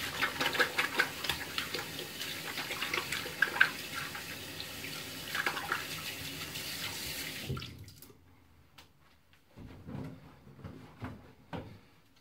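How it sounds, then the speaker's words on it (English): Tap water runs steadily into a bathroom sink while a five-blade razor is rinsed under it, a continuous close rush that stops partway through, leaving quieter splashes and drips. "Just rinse off this razor a little bit further"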